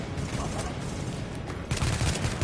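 M4 rifle fire in The Division video game: steady bursts of rapid shots that grow louder and sharper partway through, filling the whole stretch.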